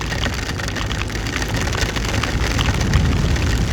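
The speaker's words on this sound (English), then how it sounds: "Oh, it's raining cats and dogs." Heavy rain pours steadily outdoors at an early-morning cycling race, a dense, loud, continuous hiss with no voices over it.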